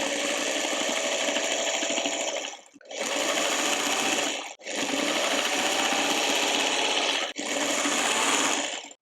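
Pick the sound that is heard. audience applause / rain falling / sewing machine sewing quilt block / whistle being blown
sewing machine sewing quilt block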